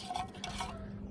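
Spoon stirring a rehydrating Norwegian Army Arctic MRE meal in its pouch, a brief soft scraping and rustling lasting about a second.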